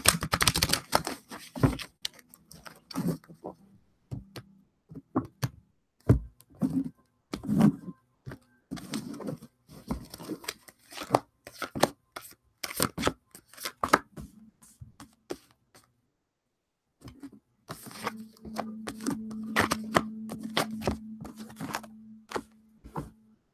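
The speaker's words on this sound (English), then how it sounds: "I'm gonna shuffle this one more time" Tarot cards riffle and tap in quick clustered bursts, with pauses between, close up and fairly quiet, ending in a longer soft shuffle.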